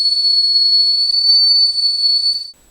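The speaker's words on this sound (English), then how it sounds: "There goes the kettle. It's noisy enough so you can hear it even in the garden." A kettle on a Rayburn wood-burning range whistles loud and close with a steady high shrill tone for over two seconds, then cuts off abruptly.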